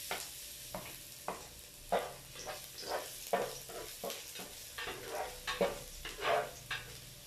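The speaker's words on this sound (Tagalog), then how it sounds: "kapag kumukulo na yung mantika, ihulog natin yung bawang." Garlic dropped into boiling oil sizzles in a pan, with repeated stirring scrapes and clacks every half second or so over a steady frying hiss, close and fairly quiet.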